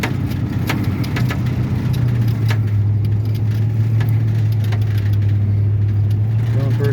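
A 1969 Ford Mustang Mach 1 engine runs on a drive, a loud steady low rumble holding throughout with faint clicks and rattles over it, and a voice speaking briefly near the start.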